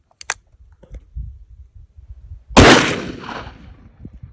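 A Smith & Wesson Performance Center .500 Magnum revolver fires a single loud, booming shot outdoors that decays over about a second, preceded by sharp mechanical clicks of handling.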